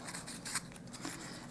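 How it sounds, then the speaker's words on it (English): Painted tissue paper crackles and rustles in brief, crisp bursts while being handled and crumpled, close and fairly quiet, with no talking. "And I'm going to unfold this now,"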